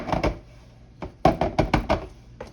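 A pan of 7UP pound cake batter is knocked against a countertop to level it, giving a series of hollow thuds in two bursts, close and fairly loud, with no talking.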